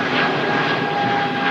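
An Airbus neo airliner passes at Manchester Airport with a loud, close engine roar carrying a steady whine, heard alone without talk.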